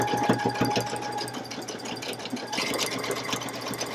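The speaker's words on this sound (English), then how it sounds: "I'm stitching right inside that border line." Stitching right inside the border line of a Valentine's table runner, a sewing machine hums and chatters close by in a steady mechanical run.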